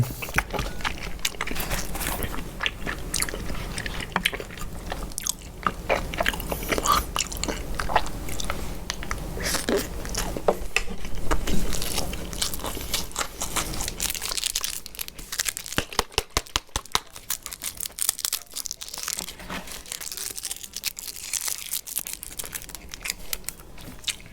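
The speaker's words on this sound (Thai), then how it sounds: "แล้วก็กินกับหนังนิดนึงนะคะ" Close, continuous chewing and biting on braised pork leg with skin, with wet smacks and soft crunches going steadily with no talk heard.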